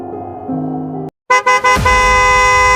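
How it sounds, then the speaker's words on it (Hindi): A car horn blares loud and close in a sustained blast as a vehicle speeds past, after a brief silence and a few sharp bursts. "अचानक एक गाड़ी के तेज हॉर्न बजाते हुए उसकी गाड़ी से हल्की रगड़ मारते हुए आगे निकल गई"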